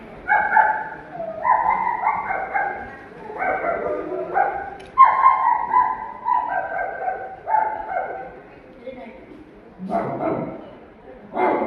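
A puppy yaps and barks in quick high-pitched bursts, close by, with short whimpering cries between the barks.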